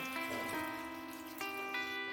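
Water poured into a pot of potatoes for a kids' aloo kachalu recipe, a short quiet trickle with ringing tones from the pot.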